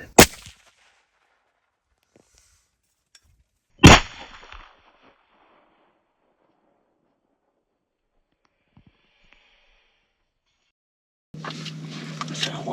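A rifle shot cracks out loud and close during a Texas deer hunt, a single sharp report with a short tail, followed by quiet, a second sharp impact and then a burst of broadband noise near the end.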